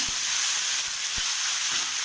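Steady sizzling of ginger-garlic paste sautéing in a frying pan for mushroom masala, a constant bright hiss with a few soft knocks of stirring.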